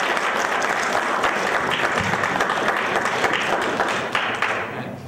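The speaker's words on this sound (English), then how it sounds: "please give a warm round of applause to Vinod Kutty" A conference audience applauds a speaker being introduced for a talk on migrating to Linux on x86, with dense, sustained clapping from a sizeable crowd that holds steady for several seconds before starting to thin out.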